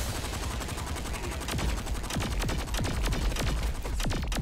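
Rapid automatic gunfire from the video game Saints Row IV rattles in dense, continuous bursts, loud and close, with sharp cracks layered over a steady noisy backdrop.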